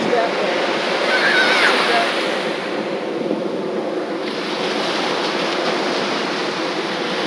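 Ocean waves wash onto Dockweiler Beach in California with a steady, rushing surf roar, mixed with wind buffeting the microphone, while a person talks nearby.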